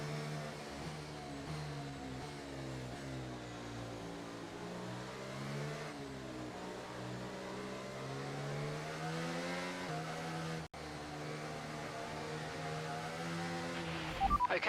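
Formula One car engine in the racing game F1 24, revving loud and steady with rising and falling pitch sweeps as it accelerates through gears, a continuous near drone with a brief cut near the end.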